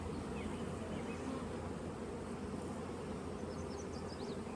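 Steady, dense buzzing of many honeybees at a large, busy hive bringing in pollen, a continuous close hum with no talking.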